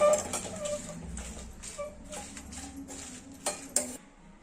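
Cumin, curry leaves and dried red chillies being fried in a pan for a spicy Kandi panchadi, with a soft sizzle under repeated clinks and scrapes of a metal spoon against the pan.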